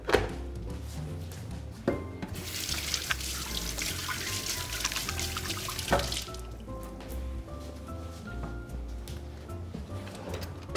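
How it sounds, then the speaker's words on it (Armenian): Boiled water is poured over bulgur in a bowl, a steady splashing pour of about four seconds over a busy kitchen background with scattered clinks. "Հիմա այս պահին վրան լցնենք եռացրած ջուր, թողնենք հասունանա։"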